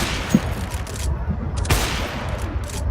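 Gunfire in Counter-Strike: Global Offensive on the Dust 2 map, with a few sharp shots cracking out amid steady in-game background noise, brief and moderately loud.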